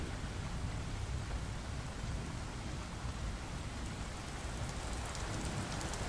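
A storm sound effect of dense, steady rain hissing over a low, continuous rumble of thunder, evenly loud and unbroken from start to finish with no voices.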